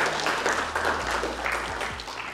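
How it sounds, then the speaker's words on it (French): Audience applause at a music festival, a dense wash of clapping with a low hum underneath and a few faint voices mixed in. "Jacob Desmarieux, que je vous remercie d'applaudir."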